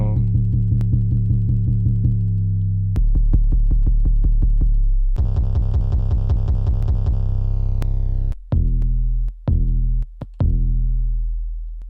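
A sequence of deep 808 bass drum samples from a trap drum kit, each booming, sustained hit sliding in pitch, played one after another with abrupt cuts near the end, loud and alone.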